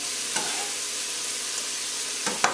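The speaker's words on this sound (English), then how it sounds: "In goes some scallions, and with my heat on low," Scallions sizzle steadily in a pan over low heat, a soft continuous frying hiss close by with a couple of brief stirring clicks.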